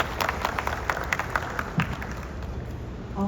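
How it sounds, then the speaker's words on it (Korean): A conference audience at a Korean hospital's smart-robotics presentation applauds, a steady broadband wash of many hands clapping at moderate loudness throughout, with a few sharper claps standing out and no talking over it. "박수 부탁드리겠습니다."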